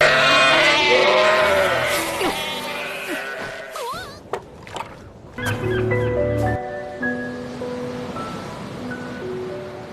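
Sheep bleat on a Viking-era farm in the Vinland Saga anime: several wavering, close bleats at the start, then fading into other farmyard sounds and a sustained musical tone.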